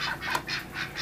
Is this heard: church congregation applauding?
no